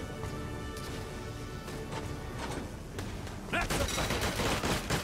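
Gunfire rattles out during a battle in the video game Valkyria Chronicles 4, a dense run of shots over constant background noise, growing louder and fuller in the last second or so.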